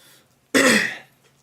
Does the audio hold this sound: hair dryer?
no